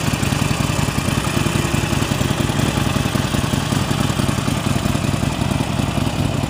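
A 2019 Harley-Davidson XL 1200X Sportster Forty-Eight idles close by, its V-twin engine a loud, steady, rumbling lope with an even mechanical clatter and no talking.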